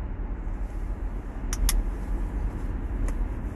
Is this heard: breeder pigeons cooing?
no